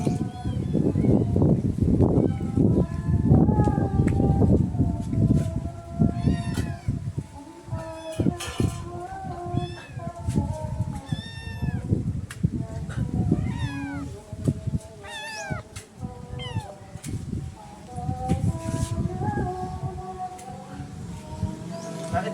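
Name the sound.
kittens meowing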